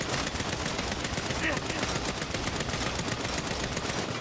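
Rapid gunfire in the video game Saints Row, dense continuous bursts of shots like a machine gun filling the whole stretch, loud and unbroken, with a voice faintly underneath.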